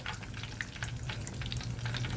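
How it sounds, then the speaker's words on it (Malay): Karipap pastries deep frying in oil in a pot, giving a steady, close crackling sizzle with dense popping bubbles throughout, no talk. "Boleh macam ni supaya dia deep fry"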